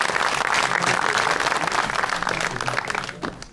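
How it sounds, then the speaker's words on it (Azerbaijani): A studio audience at a comedy show bursts into loud, dense applause that holds steady and then begins to thin out toward the end, with no talking over it. "Fəzail Küskünü alqışlarınızla dəvət eləyək bu gözəl səhnəmizə."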